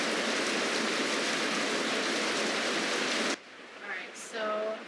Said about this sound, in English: But now it's raining. You hear a lot of noise